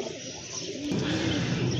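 A rare pair of Gorra pigeons coos softly, a low wavering call that swells after a brief quiet start and continues steadily against faint background noise.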